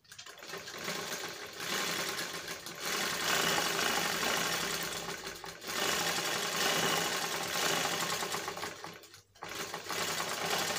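Sewing machine stitching a small coat, a close, steady rapid mechanical whir and chatter running in long stretches with brief pauses between runs.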